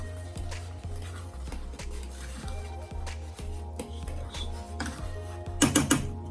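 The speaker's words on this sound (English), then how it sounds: "Now I'm just going to give that a stir." Corned beef being stirred in a pot on the stove, a steady series of faint scraping and clinking strokes with a louder clatter of utensil against the pot near the end; no one talks.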